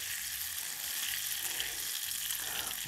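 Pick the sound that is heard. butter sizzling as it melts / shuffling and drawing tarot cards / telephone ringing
butter sizzling as it melts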